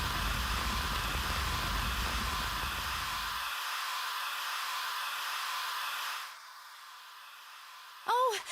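Fire extinguisher in Zero Time Dilemma discharging onto a fire, a loud steady rushing hiss that holds for about six seconds, then cuts off to a quieter tail and a short tonal blip at the end.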